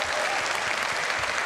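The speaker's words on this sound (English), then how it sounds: "So please, a round of applause for the developers." A large convention crowd of about 4,000 at CitizenCon claps for game developers, a dense, continuous wash of applause heard from within the audience.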